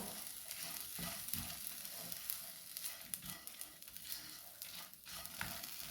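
A chutney mixture with Kashmiri chilli powder roasts in a pan, producing a faint, continuous crackling sizzle with light stirring scrapes and no talk.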